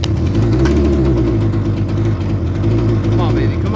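A 1975 Suzuki T500 Titan two-stroke motorcycle engine, long left sitting, runs after firing up with a loud, close, steady low chugging drone, with a voice speaking over it.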